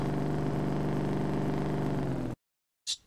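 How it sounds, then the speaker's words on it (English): A car engine in Farming Simulator 17 drones loudly and steadily at a constant idle-like pitch, then cuts out abruptly into silence before a brief burst of another sound. "This car is just way too loud."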